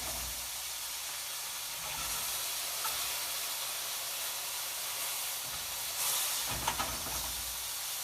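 Bacon strips frying in a pan, with a steady broadband hiss of sizzling fat throughout and a louder burst of crackle and spatter near the end.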